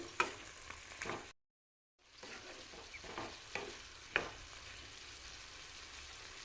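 Tomatoes with turmeric and salt being stirred in a frying pan, a spoon scraping in a loose series of light clinks and scrapes over a soft sizzle, broken by a brief silent gap.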